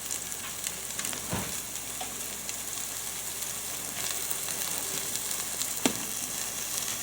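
Onions fry in a pan with a steady, bright sizzle and occasional crackles and pops, heard close and alone without talk.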